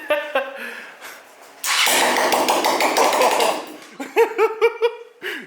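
A Kawasaki KLX 140 dirt bike with an open header lets out a loud, raw blast lasting about two seconds. Voices and laughter come before and after it.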